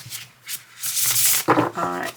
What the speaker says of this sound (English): so while I shuffle